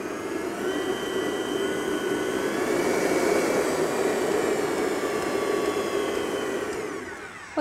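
An electric mixer beats cake batter with a steady, loud, continuous whir that holds for several seconds before easing off slightly at the end.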